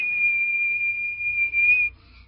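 A single sustained, steady whistle tone in an animated film, lasting about two seconds, clear and close, then it stops.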